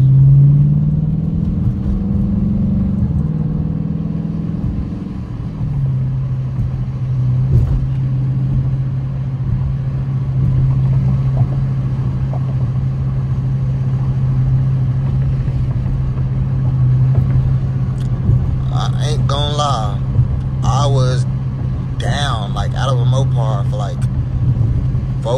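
A 2023 Dodge RT driving through city streets, its steady low engine rumble droning close and continuous throughout, with voices breaking in briefly near the end.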